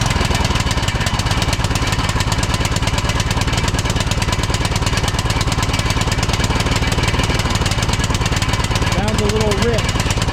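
A Troy Bilt Pony lawn tractor engine running rich chugs loudly and close in a rapid, steady, slightly rough beat, with a voice briefly audible near the end.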